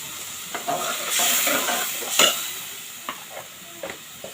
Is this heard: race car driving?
no